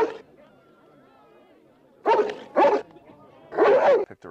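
A dog barks in a television episode, a few loud separate barks and yips after a quiet stretch, close and clear, with people talking faintly underneath.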